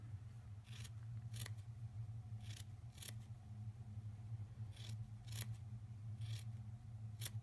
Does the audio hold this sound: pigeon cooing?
no